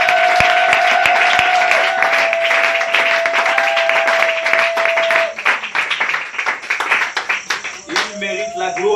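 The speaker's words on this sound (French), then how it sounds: "Est-ce qu'on peut fortement acclamer Jésus?" A church congregation breaks into loud applause and cheering for Jesus, dense clapping that fills the room, with a voice talking over it and the clapping thinning toward the end.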